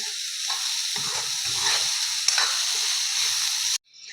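Onion and tomato fry lightly in a pan over medium gas for stuffed paneer karela, a steady soft sizzle with faint stirring scrapes, close by, cutting off abruptly near the end.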